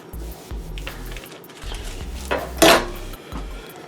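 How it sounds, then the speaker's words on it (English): A utensil cuts a full stick of butter in a pan for macaroni and cheese, producing irregular scrapes and light metallic clinks, with one louder scraping clatter near the end and no voices. "I'm gonna cut up this full stick of butter."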